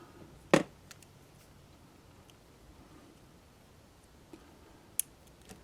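Sharp snips of wire cutters trimming unused decoder leads during a Bachmann 2-10-0 locomotive DCC install: one crisp cut near the start and a second fainter one later, over quiet room hiss.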